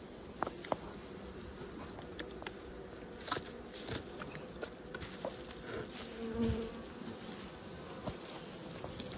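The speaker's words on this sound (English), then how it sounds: "Lots of bees." Bees swarm around an open hive during a no-brood beekeeping split, giving a continuous close buzzing hum with occasional louder passes and faint handling taps.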